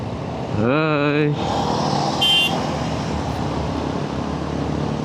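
Motor tricycles and other vehicles pass close by in busy traffic, a steady road rumble with one brief horn toot and a short high-pitched squeal; a voice speaks briefly near the start.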